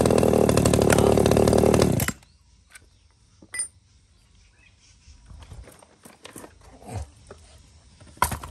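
A used Japanese chainsaw engine runs loud and steady for about two seconds just after starting, then cuts off, leaving only faint scattered knocks.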